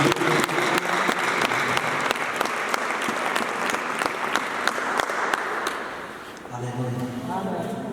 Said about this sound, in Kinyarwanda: Dutanga amashyi ku bw'ijambo.